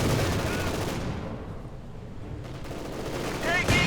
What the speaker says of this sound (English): a brave Maxim gunner fires at the Panzer 4